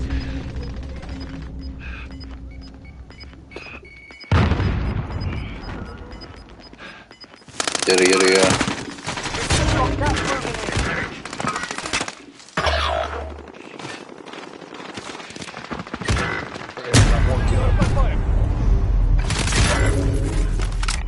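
Bursts of automatic gunfire from a multiplayer shooter video game, loud rapid fusillades in several separate stretches with short quieter gaps between them, mixed with game effects and occasional player voices.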